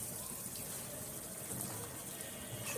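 Water runs steadily into a pan while stuffed chicken cooks, a soft, continuous gushing pour that stays quiet and even.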